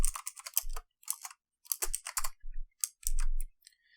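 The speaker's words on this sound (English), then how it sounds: "So here, I'm going to type if window has resized," Fingers type code on a computer keyboard, close and quiet, in uneven bursts of crisp keystroke clicks broken by short pauses.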